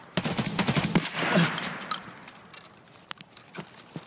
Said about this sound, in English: I just get shot from like far away